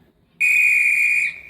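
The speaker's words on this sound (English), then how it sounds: "The guard blew his whistle" A railway guard's whistle gives a single loud, shrill blast held for about a second, clear and close, after a moment of near silence.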